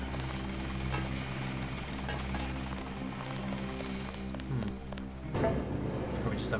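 A helicopter idles at an airport in the game Deus Ex, giving a steady mechanical hum and low rotor rumble that shifts abruptly near the end.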